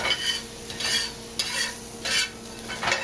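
Star anise and other ingredients being stirred in a frying pan, close rhythmic scraping strokes about every half second over a steady sizzle.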